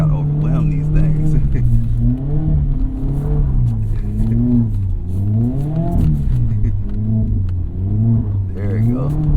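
A Mazda Miata ND3 is driven hard on a snowy road, its engine revving up and down in repeated swells with a loud rumbling drone as it slides, and a voice talks intermittently over it.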